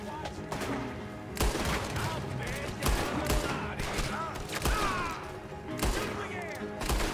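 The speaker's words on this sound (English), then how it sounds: "I'll just shoot him five times to kill him" Gunfire in Red Dead Redemption 2: repeated sharp shots fire in irregular bursts across the whole stretch, loud and punchy, with some talk underneath.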